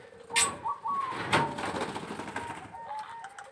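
A perkutut zebra dove coos nearby in soft rolling phrases, repeated several times over a quiet background, with no speech.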